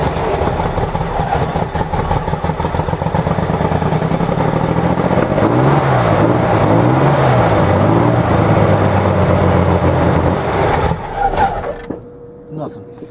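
A Chevrolet Corvair engine cranks on a cold start, a loud steady rapid chugging of the starter turning the motor over for many seconds before cutting off abruptly near the end, leaving quiet.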